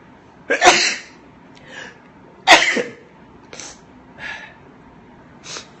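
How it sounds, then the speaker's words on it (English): Two sharp, loud sneezes burst out close by about two seconds apart, followed by softer sniffs and breaths in a quiet room. "Hold on, I gotta sneeze."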